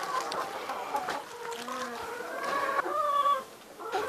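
Farm chickens cluck steadily at a Foundations for Farming centre in Mzuzu, a flock of egg-laying hens heard close by with overlapping rhythmic clucks and short calls, no talking.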